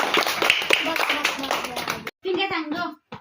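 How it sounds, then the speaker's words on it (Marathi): An audience clapping at a comic village-headman stage show, dense applause mixed with overlapping voices and a child's chatter, breaking off briefly before resuming. "टाळ्या वाजवा, टाळ्या वाजवा."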